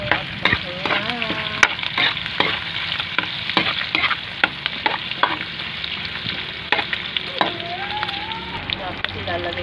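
Onion and garlic sautéing in a pan, a loud constant sizzle with frequent sharp clicks and scrapes of a utensil stirring, close by, with no talking.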